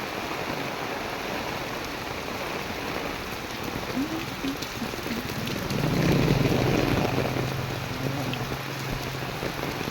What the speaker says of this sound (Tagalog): Ang buhos ng ulan mga idol.